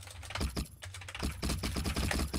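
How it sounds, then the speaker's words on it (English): Rapid clicking of a computer keyboard being typed on, close and fairly steady, with a brief pause partway through and low background hum. "That typing, guys."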